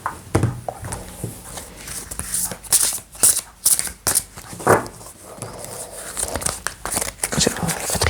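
Oracle cards get shuffled by hand during a card reading, producing bursts of riffling, flapping and papery crinkle in uneven waves, close and fairly loud, with no speech.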